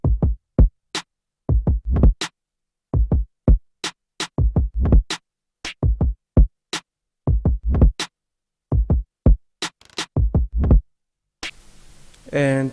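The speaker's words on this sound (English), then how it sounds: "together the drums sound like this" An R&B drum loop of punchy kicks, snare and clap hits repeats in a tight groove, dry and loud with silences between hits, ending in a brief burst of other sound.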